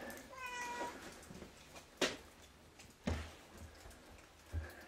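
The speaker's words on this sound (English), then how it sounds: "Here we have Venus. She's our barn cat." Venus, a barn cat, gives a short meow near the start, followed by a few soft thumps and knocks in a quiet barn.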